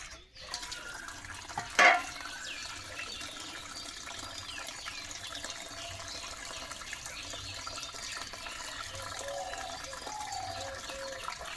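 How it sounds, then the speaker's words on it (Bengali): Running tap water pours steadily over leafy greens brought in from the field and caked with soil, a constant close gush with one brief clatter near the start. "মাঠের থেকে মা শাকগুলো নিয়ে আসে, এতে ভীষণ মাটি থাকে, নোংরা থাকে, ভালো করে ধুতে হয়"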